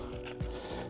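A hobby saw drawn across a plastic part of a Revell Star Wars model kit, a few short rasping strokes close up, with one slightly stronger scrape midway.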